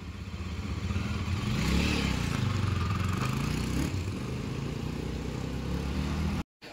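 A freshly repaired motorcycle pulls away on a test ride, its engine revving up loudly near at first, then settling into a steadier, slightly fading drone as it moves off, with no talk over it.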